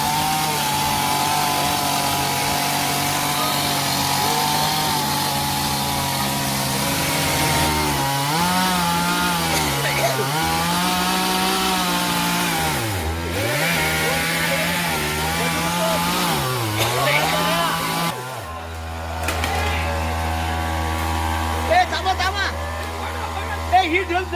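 Chainsaw cutting down a mango tree for the Holi festival in rural Konkan, a loud engine that rises and falls under load as the blade bites. Near the end it drops to a lower idle, with people talking throughout.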